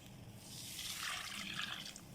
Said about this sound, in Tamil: இது ஹாட் வாட்டர் தான் நான் ஊற்றுறேன்